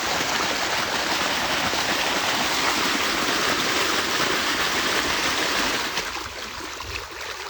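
Cold stream water flows continuously with a dense, steady rushing wash at close range, easing slightly toward the end, no speech over it.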